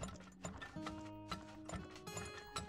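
Horse hooves clip-clopping in the oil-drilling game Turmoil: a quiet, steady series of hoof clops over looping mechanical ratcheting and tonal game sounds, with no speech.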